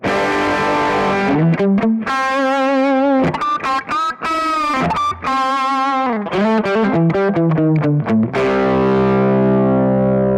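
Electric guitar with a distortion effect on a Kemper Profiling Amp, tone knob lowered to 7, loud and saturated: a held note, long stretches of rapid picked riffing with brief gaps, ending on a sustained ringing chord, no voices.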